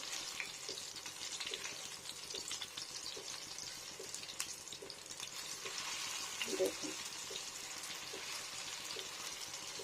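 Small chara pona fish, rubbed with mint, garlic paste, salt, turmeric and chili powder, frying in oil with a steady close sizzle while pieces are gently flipped, a brief louder clatter and spatter near the middle.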